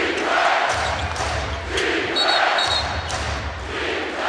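A packed, sold-out basketball arena crowd roars and cheers during an NBA game between the Boston Celtics and Toronto Raptors, a dense continuous wall of voices swelling in waves with occasional thuds.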